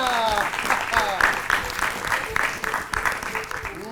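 Audience applause on a Hindi quiz show, a dense steady patter of clapping lasting throughout, with a voice talking over it.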